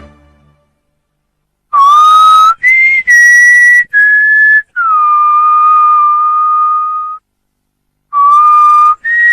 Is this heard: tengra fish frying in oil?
no